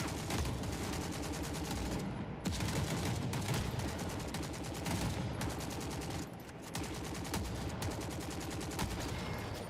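Dense, relentless gunfire in the video game Forever Winter, rapid automatic bursts hammering almost without pause, with only brief gaps in the loud barrage.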